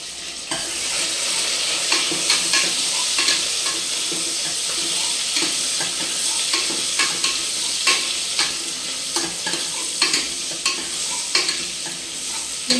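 Onions and green chillies sauté in a pan for egg biryani, a continuous sizzle punctuated by repeated, rhythmic scrapes and clacks of a spoon stirring against the pan.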